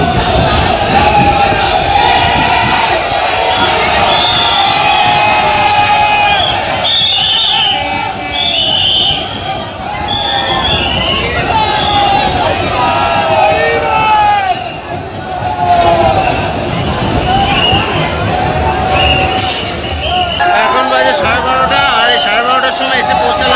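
Dense crowd noise at Barasat railway station late at night, around 11:30, busy with travellers heading to the Thakurnagar fair: a continuous loud babble of many voices with shouts and occasional whistles, steady throughout.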